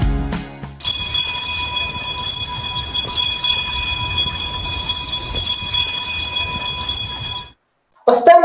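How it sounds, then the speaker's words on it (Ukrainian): A school handbell rings at a Ukrainian last-bell graduation ceremony in 2023, a bright, continuous jingling peal held for about seven seconds near the listener before it suddenly stops and a brief noise follows. "Право дати останні дзвони надається вам, наші любі випускники."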